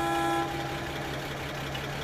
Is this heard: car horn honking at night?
yes